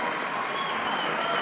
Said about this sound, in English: Listen to the crowd. And she's going to get quite a hand